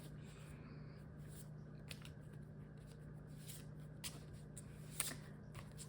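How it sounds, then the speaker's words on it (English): Thick tarot cards are shuffled with some difficulty close up, giving soft, quiet riffling and rustling with a few sharper slaps. "Sorry, these cards are thicker. So, struggling to shuffle here."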